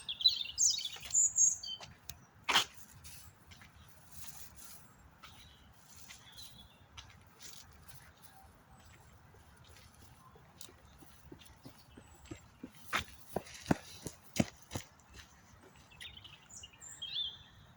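Scattered bird chirps and tweets ring out in a forest, some sharp and close, with quiet gaps and a faint rustling background.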